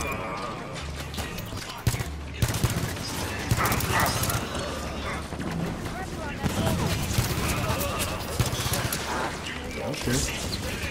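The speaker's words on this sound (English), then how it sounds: "Turrets on and firing." Auto turrets fire against Promethean enemies in the video game Halo 5 Guardians, laying down dense rapid bursts and crackling impacts over ongoing battle noise, with a person talking over the shooting.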